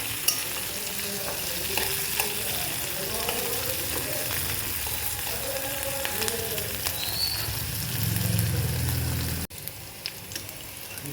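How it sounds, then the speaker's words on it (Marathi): Green chilies frying in oil in a home kitchen, a steady continuous sizzle with occasional stirring scrapes, growing louder and fuller near the end before cutting abruptly to a quieter sizzle. "याला थोडा वेळ छान फ्राय करून घ्यायचं तेलामध्ये, म्हणजे त्याचा तिखटपणा जरा कमी होतो मिरचीचा."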